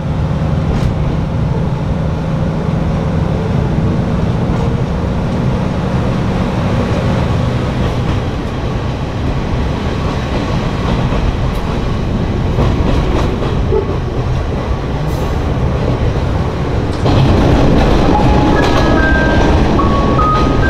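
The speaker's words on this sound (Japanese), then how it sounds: "列車は出発します" A Kanto Railway train on a mystery excursion pulls out of the depot and runs along the line, with a loud, steady rolling rumble and wheel noise close by that swells near the end, and a faint squeal rises briefly.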